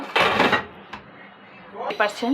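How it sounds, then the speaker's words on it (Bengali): A wok (kadai) is set down on a stove, sharp metallic clanks and scraping knocks at the start and end around a quieter gap, close by. "চুলায় আমি কড়াই বসিয়ে দিয়েছি।"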